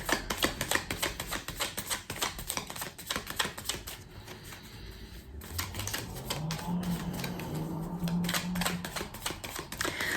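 Tarot cards shuffled and laid out by hand, a quick run of crisp clicking taps and card snaps, near and fairly steady, easing into softer sliding handling with a low hum beneath.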